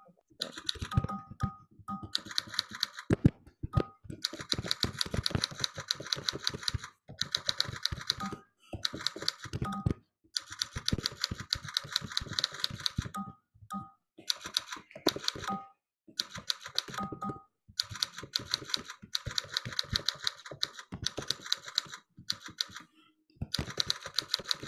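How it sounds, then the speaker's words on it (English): Rapid clattering keystrokes on a computer keyboard during a kids' private coding class, close and steady in fast bursts with brief pauses between runs. "Do you see the keyboard while you're typing"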